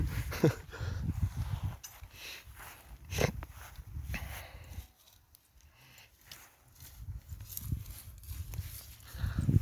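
A heavy draft mare walks along, hooves clip-clopping in an uneven rhythm with a brief quiet stretch midway, set against faint outdoor background noise.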